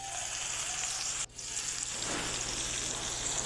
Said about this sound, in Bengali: তেল দিয়ে এখন দিয়ে দেবো আমি পেঁয়াজ কুচি আর কাঁচামরিচ কুচি দিয়ে হালকা করে নেড়ে চেড়ে নেব।